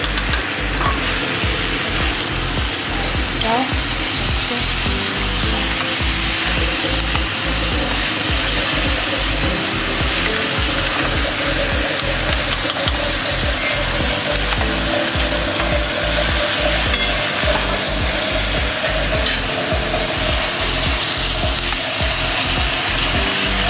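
Crab curry sautéing in a pan, with loud, continuous sizzling and frying and a rhythmic scrape of stirring running throughout, close and alone with no talk.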